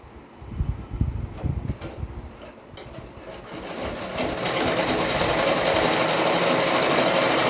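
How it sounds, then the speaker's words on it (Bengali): An electric sewing machine stitches a quilt made from old cloth, starting with a few short irregular bursts, then settling into a steady loud continuous whirring run. "এখন আমি মেশিনে সালাই করার জন্য নিয়ে চলে যাচ্ছি"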